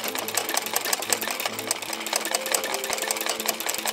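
Sewing machine embroidering a small napkin, a fast steady mechanical whir with a rapid needle clatter running loud and continuous throughout.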